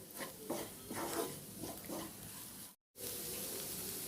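Carrots and beans fry in a pan with turmeric, sambar chilli powder and salt, a soft sizzle with scraping stir strokes, close and faint, cut by a brief gap of silence.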